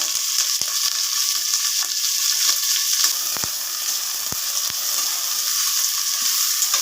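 Curry leaves, garlic, big and small onions sautéing in oil, a loud, dense, continuous sizzle with a few sharp clicks from the spoon, close up.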